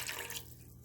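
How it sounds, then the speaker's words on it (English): Water poured from a quarter-cup measure into a pint jar of dough ingredients in a home kitchen, a short splashing trickle that fades out partway through, quiet and close with no talking. "it did call for a 1/4 cup of water, so let's pour that in too"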